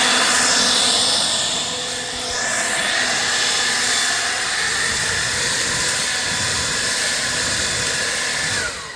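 A Craftsman battery-powered leaf blower roars steadily and close, blowing dirt and debris outdoors, its airy whine shifting slightly in pitch throughout with no talking.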